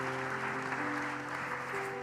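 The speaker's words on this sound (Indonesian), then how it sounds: "Tepuk tangan dulu." Studio audience applause on an Indonesian television sahur show, a dense steady clapping wash held at moderate level for a couple of seconds with faint sustained tones beneath.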